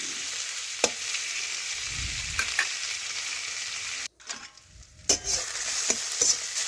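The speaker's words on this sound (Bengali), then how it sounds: "ভালোভাবে টমেটো পেঁয়াজের সাথে একটু নাড়াচাড়া করে ভেজে নিচ্ছি।" Onion and tomato pieces frying in a pan as they are stirred, a steady hiss of sizzling oil with scattered scraping spatula strokes and a brief dip in the middle.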